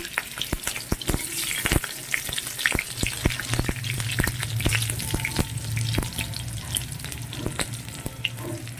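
Panch phoron spices crackling in hot oil, a dense run of sharp pops and spits over a bubbling sizzle, with a light stir partway through.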